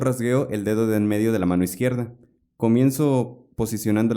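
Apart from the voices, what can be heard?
No everyday noises stand out.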